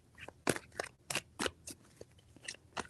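Tarot cards being shuffled close by but faintly: a quick, uneven series of crisp papery snaps and flicks, each short, with no talking.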